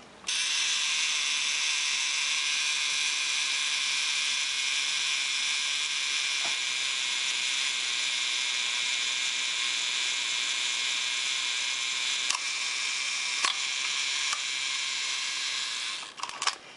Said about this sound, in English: The self-timer works.